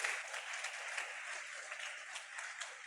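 A church congregation claps together in sustained, even applause, heard at moderate distance and fairly faint, with no talking over it.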